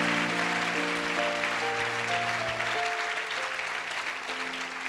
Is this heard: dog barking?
no